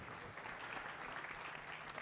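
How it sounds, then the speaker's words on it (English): A conference audience at a tech innovation event applauds itself, a dense, even burst of many hands clapping at moderate distance, sustained without pause for two seconds. "You can give yourself a round of applause."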